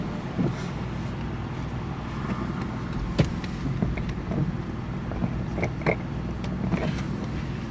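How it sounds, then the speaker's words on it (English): A car being driven, heard from inside the cabin: a constant low road rumble and wind hiss with scattered small clicks and rattles, steady and moderately quiet throughout. "Guys, driving right now."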